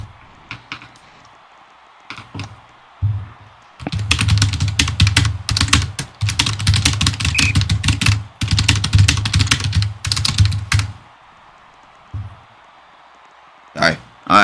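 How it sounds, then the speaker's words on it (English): Rapid bursts of clattering computer keyboard typing come in close and loud with short pauses between runs, ending in a few isolated keystrokes, and a voice talks quietly in between. "Alright, I'm done typing."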